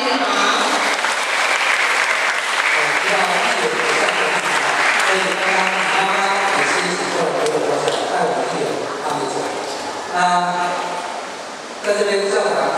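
Sustained, dense applause from a large audience at a school graduation ceremony fills the hall, steady and loud before tapering off near the end.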